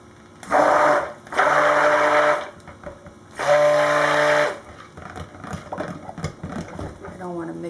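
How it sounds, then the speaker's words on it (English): Stick blender mixing white soap batter in three loud whirring bursts, each a second or so long with pauses between, followed by quieter handling and a voice talking. "get my stick blender."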